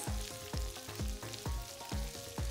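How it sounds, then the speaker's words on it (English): A mixture of boiled potatoes, peas and sweet corn being stirred in a pan over medium-low heat for samosa filling, heard as rhythmic repeated scraping strokes, about five or six in quick succession, over a soft sizzle. "Give it good stir."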